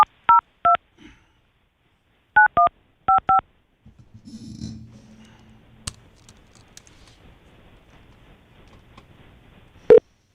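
Touch-tone keypad beeps as a phone number is dialed: several short, clear tones in quick groups, followed by a faint low hum and scattered clicks.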